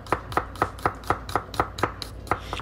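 Garlic cloves are finely chopped with a knife on a board, about ten sharp, evenly spaced chops in a quick, steady rhythm, close and clear with no talking.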